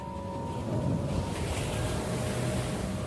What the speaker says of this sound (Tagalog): Pare, Mia, tingnan niyo yung alon.